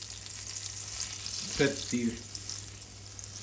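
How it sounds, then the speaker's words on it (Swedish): Butter sizzles and fries steadily in a pan as vegetables and eggs are prepared, a continuous crackling hiss heard under a voice speaking briefly in the middle. "Så, vi börjar att steka och steka."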